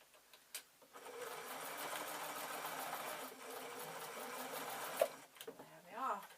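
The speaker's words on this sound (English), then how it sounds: "the last job for the sewing machine is to attach the button" Sewing machine stitching while a large Easter shoulder bag decorated with buttons is made, a steady close mechanical whir running for several seconds before stopping, with a few clicks and a voice near the end.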